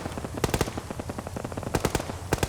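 Rapid bursts of 5.56 Colt carbine gunfire in a tactical shooter video game, sharp clustered shots repeating in several volleys over a steady background.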